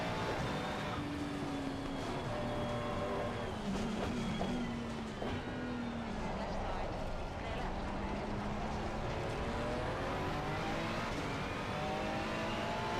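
Ferrari race car in a Suzuka racing video game, its engine droning steadily with rising and falling pitch through gear changes, loud and continuous, with a voice talking over it.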